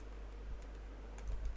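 Someone types on a computer keyboard, with soft, scattered key clicks under a steady low room hum, quiet and close, and no one talking.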